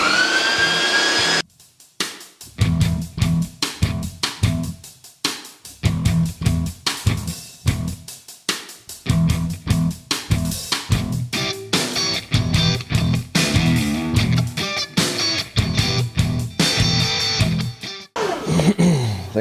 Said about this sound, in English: let's grind this stuff up and see how this grinder does